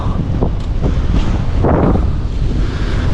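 Waves break on a beach in Cancun, Mexico, where the water is murky and full of seaweed. Heavy wind buffets the microphone, and a loud, continuous roar of surf carries a few sharper splashes.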